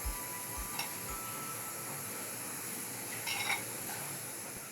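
A spoon clinks and scrapes in a bowl while flour is mixed with three spoonfuls of rice bran oil for chole bhature dough; soft knocks come first, then a brief scraping rub, all faint and close.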